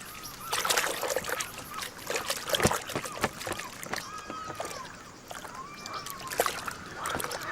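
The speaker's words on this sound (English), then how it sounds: "She settles for a chance to wash off the dust of the journey." A white-tailed eagle bathing in water, giving irregular close splashes and trickles that rise and fall in bursts, with faint high bird calls in the background.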